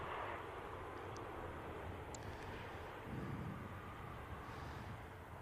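A Qatar airliner taxiing at Manchester Airport gives a distant, steady jet engine rumble and hiss, faint under wind noise.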